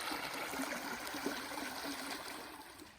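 Salt Fork Creek running over rocks at a trail crossing in the Ozark Highlands, a steady close rushing and trickling of water with no talk.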